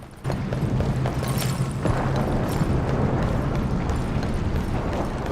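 Hooves of a Kilin character in a video game clink on a clay floor as it runs, with repeated sharp steps over a loud, rumbling storm background.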